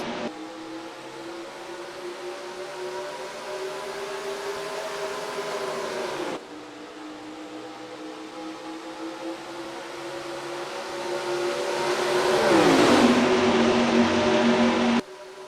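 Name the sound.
race cars at green flag start, NASCAR Racing 2003 video game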